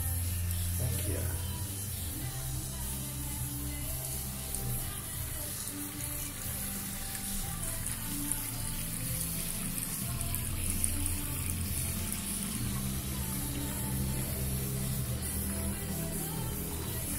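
A water tap running steadily so a cat can drink, a constant broad splashing hiss throughout, with someone speaking softly over it.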